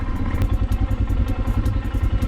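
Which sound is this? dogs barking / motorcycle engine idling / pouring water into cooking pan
motorcycle engine idling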